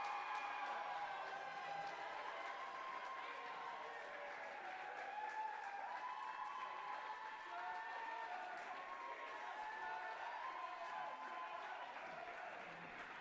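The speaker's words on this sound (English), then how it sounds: "Let's have a round of applause for them." A journalism awards audience gives a round of applause for a teaching team, a long, even wash of clapping heard from a distance, with scattered cheers and murmured voices mixed in.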